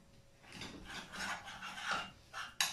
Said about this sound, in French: mélangez doucement à l'aide d'une cuillère en écrasant les cristaux de soude jusqu'à une pâte molle et homogène